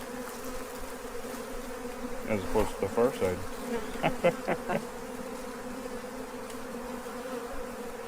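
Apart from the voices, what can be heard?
bees buzzing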